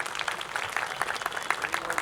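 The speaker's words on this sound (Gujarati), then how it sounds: "તાળીઓ પાડીશું આપણે." Audience applause at a Brahma Kumaris Mahashivratri celebration evening gathering, a steady dense patter of many hands clapping at moderate distance with no talk over it.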